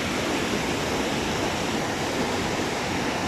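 Swollen high river rushing beneath a handrailed footbridge in the countryside near Medellín, Colombia, a steady, loud, broadband roar of churning water with no letup.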